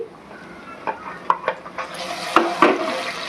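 Garlic, ginger and green chili hit hot oil with onions in a pan, soft sizzling broken by a few sharp clacks and scrapes of stirring, close and fairly quiet.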